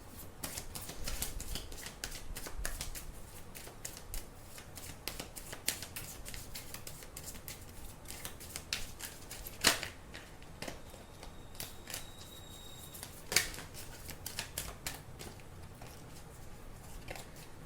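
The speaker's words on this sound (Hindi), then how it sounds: "मैं आपके लिए अभी कार्ड निकाल रही हूँ।" Tarot cards are shuffled and drawn close up, with a long run of soft rapid riffling and flicking. A few sharper snaps and slaps stand out, and no one speaks.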